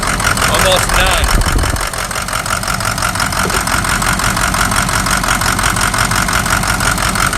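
A diesel engine runs steadily at idle with a rough, rattling knock, loud and close, while a person talks briefly near the start.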